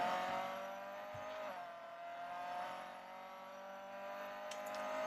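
Mercedes A45 AMG engine accelerating out of a chicane toward the Lesmo corner in the Real Racing 3 racing game, a steady, continuous engine drone that holds at a constant level throughout.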